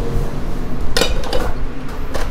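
Cast iron pots and pans clank and knock together as they are handled, giving several loud, close metallic hits over a steady background of handling noise.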